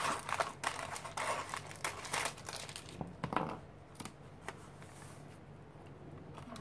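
Paper for an art journal made from an old calendar being trimmed, close crinkling and snipping sounds in quick irregular bursts that thin out toward the end, fairly quiet with no talk.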